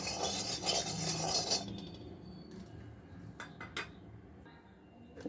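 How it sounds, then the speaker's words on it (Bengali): A spoon scrapes and clinks against a pan of hot oil on a gas flame, a clear metallic stirring close by, followed by a few faint taps in near-quiet. "এখন একটু তেলটা মিক্স করে নেবো ভালো করে"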